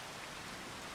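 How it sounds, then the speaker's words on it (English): Steady rain in Farming Simulator 25 makes a continuous, even hiss of falling water with no breaks or changes. It is faint and alone. "Okay, so it's a bit of a rainy one."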